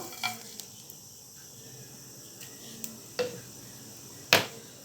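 Mustard seeds and urad dal crackle in hot oil with soft sizzling and a few scattered sharp pops, the last one louder, close and without talk.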